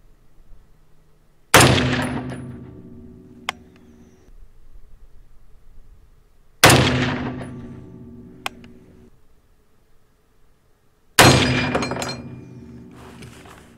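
M1 Garand rifle firing during an accuracy test, three loud separate gunshots several seconds apart, each a sharp crack followed by a long ringing decay, with faint ambient background between.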